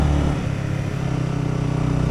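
A motorcycle engine hums steadily at moderate distance while riding on a slippery, mossy hill road in the Makapaya Hills of San Andres, Quezon, after rain, with a low, even drone and no talking.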